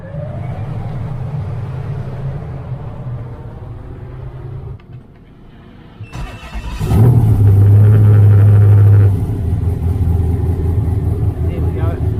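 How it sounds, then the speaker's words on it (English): An Ultima Evolution engine on a dyno cranks and fires into a loud, rumbling idle after a quieter stretch of fan-like hum, with a deep steady throb continuing close by. "I want to give you guys a bit of a listen on the dyno of the idle and the startup."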